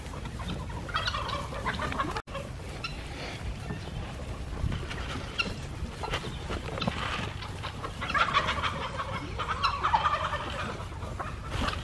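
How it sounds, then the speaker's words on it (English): Chickens cluck around a goat farm during a summer daily routine, scattered soft clucks and fowl chatter at moderate distance amid outdoor background noise, with no talk. "There's a chicken that's trying to get to the grade."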